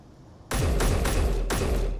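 Several punchy shots from the normal rifle in Space Engineers ring out in a loose sequence. Each report is loud and close, with overlapping decays between them.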